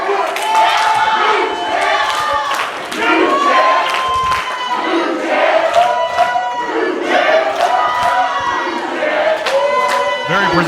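Wrestling crowd at an ACCW live show in Hiddenite chants and yells loudly in rhythmic bursts, a dense, close roar of many voices with claps mixed in, sustained throughout.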